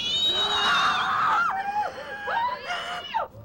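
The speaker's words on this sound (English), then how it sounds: "Emi is the standout as hers quickly raise up to a full-on screech" A woman's shrill, rising screech from the horror film Sweet Home, loud and close, breaking into pitched wails and gliding cries that swoop up and down over a few seconds.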